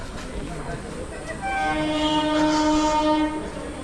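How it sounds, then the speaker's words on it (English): A train rumbles into Howrah station, sounding a long steady horn over the low rolling noise of the cars, fairly close and growing louder. "So the train has come."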